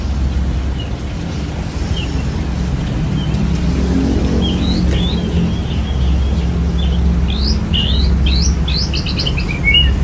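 A young white-rumped shama (murai batu) sings bright, quick chirping phrases that grow busier toward the end, over a constant low rumble of background noise.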